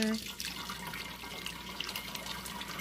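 Chicken broth pouring and splashing steadily into a jar, with a continuous wet trickle close by and no talking.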